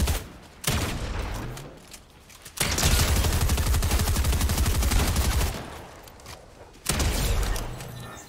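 Gunfire in the Fortnite video game: a loud, continuous burst of rapid shots with short pauses between volleys, including one long sustained stretch and a fresh burst near the end, with no talking.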